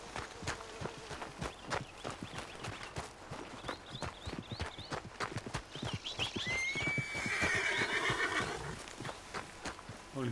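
A horse in Red Dead Redemption 2 gallops in with a steady run of loud hoof clip-clops, then lets out a long, drawn-out neigh near the end, heard alone with no talking.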